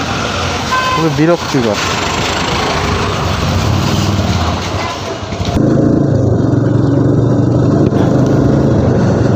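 Dense road traffic heard from a new TVS Apache RTR 160 motorcycle on a short, busy road, with engines droning steadily and close throughout while a voice talks over it.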